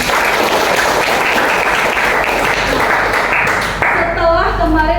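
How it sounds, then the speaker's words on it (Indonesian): A class claps for itself in a classroom, a burst of fairly loud applause that runs for about four seconds before breaking off, followed by a voice speaking. "Tepuk tangan dong untuk kita."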